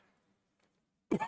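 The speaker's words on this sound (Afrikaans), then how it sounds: "Verskoon vir die hoesie." A single short, sharp cough from a presenter during a Namibian news and motoring broadcast, sounding close and loud at the end after near silence.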